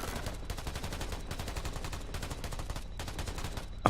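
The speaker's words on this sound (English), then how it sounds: "Okay, so he'll shoot." Enemy gunfire in the video game Black the Fall, a rapid, steady burst of repeated shots at moderate distance, continuing almost without pause across the clip.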